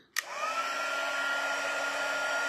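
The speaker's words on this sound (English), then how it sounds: "And then our heat tool." An embossing heat tool switches on with a click and blows hot air in a steady, loud whirring hiss that holds close and unchanged to the end, with no voices.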